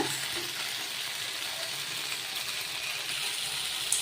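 Fish frying in oil on a dosa griddle, giving a steady, even sizzle throughout with no break, moderately close and without any voices over it.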